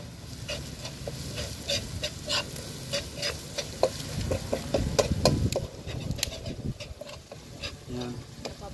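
Sliced onions sizzle and crackle steadily in a hot frying pan, with intermittent scraping stirs and spatula clicks close up, and someone speaks now and then over the cooking.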